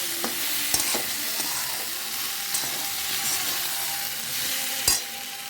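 Chopped tomato with chilli powder and spices frying for a fish curry, a steady close sizzle with several sharp stirring scrapes and clinks of the utensil against the pan.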